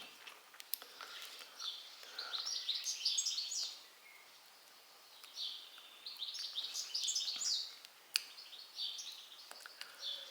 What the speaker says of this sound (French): Les oiseaux sont amoureux ce matin, ça chante, ça chante.